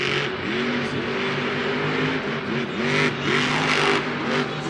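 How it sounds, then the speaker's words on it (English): A monster truck engine at a Monster Jam arena event in St. Louis, running rough as if firing on only seven cylinders, revs up and down with wavering pitch and uneven throbbing, loud and close over a constant crowd-like roar. "His motor doesn't sound right either, by the way. It kind of sounds like he's only firing on 7 cylinders."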